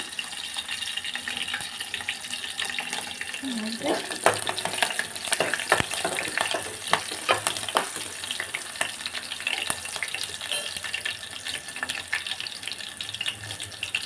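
Green chillies frying on a low flame for a prawn curry, a steady soft sizzle with scattered crackles and faint clinks throughout, with no talk.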